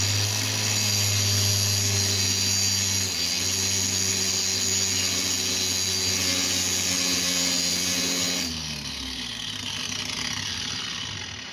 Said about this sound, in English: I'm actually just going to use this grinder because it's brass, so it's going to go through it real nice and quick and easy.